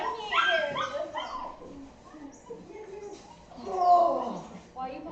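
Puppies in a litter whimpering and yipping close by, with high, wavering whines and short squeaks running almost continuously over a few seconds.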